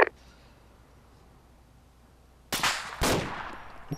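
Gunfire in the military shooter game Arma 2, with a sharp crack at the start, a quiet stretch, then two loud, close shots about half a second apart near the end.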